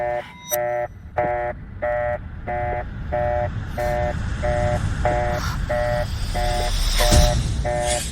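Factory alarm from a redundant safety system: a loud, steady run of identical electronic beeps repeating about every third of a second over a rumbling industrial background, with a brief harsher burst near the end.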